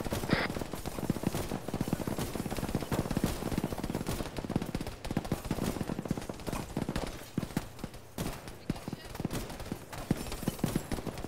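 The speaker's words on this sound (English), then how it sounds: "Taking shots at me." Gunfire during a training exercise, with dense rapid shots and bursts cracking almost nonstop, some near and some farther off.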